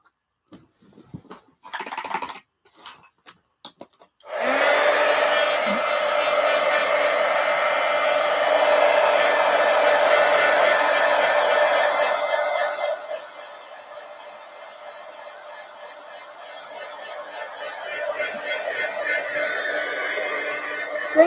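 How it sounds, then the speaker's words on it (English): A hair dryer blows steadily to dry a freshly worked art journal page with collage, starting abruptly after a few light taps and running loud and continuous, then dropping to a lower setting partway through. "All right, let me dry this."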